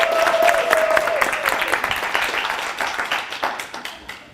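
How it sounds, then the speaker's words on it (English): Applause and scattered clapping from a live audience at a SPEAKup Challenge speaking event, welcoming the first speaker; fairly loud at first, then thinning into individual claps, with an announcer's voice briefly heard at the start. "Giving a huge round of applause for our first speaker"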